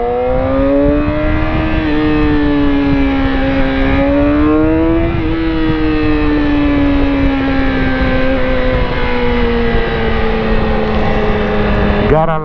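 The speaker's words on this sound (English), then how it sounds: "God, I love the exhaust on the bike." A motorcycle engine runs with a steady, loud, close exhaust drone whose pitch rises and falls gently across the whole stretch, with no other sounds.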